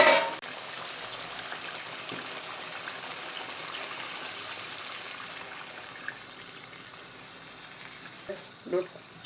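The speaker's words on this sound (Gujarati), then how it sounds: "આપણે હવે પાણી એડ કરી દેવાનું." Water splashes and streams into a pan of black pomfret fish curry with a soft rushing hiss, ending in a couple of brief clinks, with no voices.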